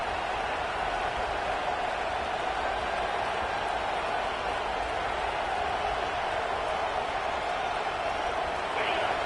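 A football stadium crowd roars at full volume throughout, a dense, steady wall of cheering with no breaks.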